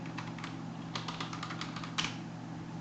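Computer keyboard keys clatter in uneven bursts of quick taps over a steady low electrical hum, close and moderately loud, with no talking.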